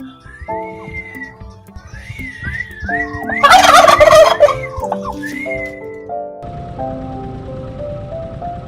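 A teased turkey gobbles loudly and repeatedly at a riverside spot near a dam, with harsh, rattling calls close by that peak in a burst midway, set against a musical background.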